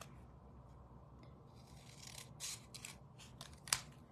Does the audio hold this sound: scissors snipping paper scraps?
yes